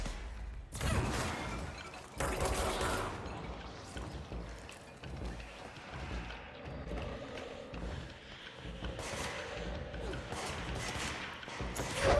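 Gunfire from the video game Control cracks in several sharp bursts between quieter mechanical game sounds. No one speaks.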